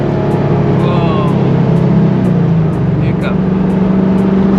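A Mazda Miata engine drones loud and close from inside the car while driving at a race weekend, a steady hum with a brief stumble partway through.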